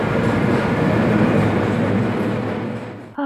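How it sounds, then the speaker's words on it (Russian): A metro train in Naples runs its empty cars with a loud, steady rumble and rolling clatter close by, easing off near the end before a brief metallic squeal. "метро практически большую часть дня туда-сюда гоняет пустые вагоны."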